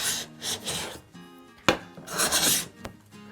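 A Stanley cabinet scraper is pushed across a wood board, giving several short, close rasping shaves in a loose rhythm with a sharp knock in between.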